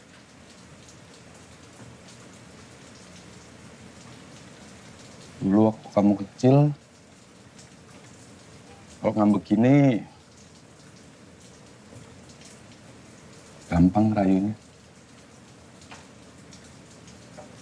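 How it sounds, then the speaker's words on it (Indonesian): Steady rain falling, a constant soft hiss throughout, with someone speaking Indonesian in three short bursts over it. "Seneng ya, lihat hujan gini."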